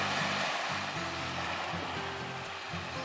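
Surf washing up onto a Maldives beach, a steady broadband wash of water that swells and recedes slightly, fairly close and continuous with no voices.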